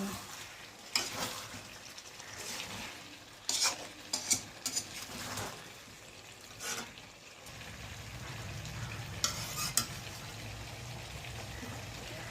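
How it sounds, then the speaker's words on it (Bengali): Potatoes are stirred into chicken curry in a pan, with a spoon scraping and clinking against the metal in irregular bursts over a low, quiet sizzle. "এবার আলুগুলো দিয়ে দিচ্ছি নেড়ে দিই"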